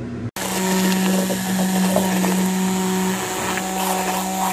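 A blender whirs steadily and loudly, mixing an emulsion of egg, sesame oil, mirin and soy sauce after a brief start.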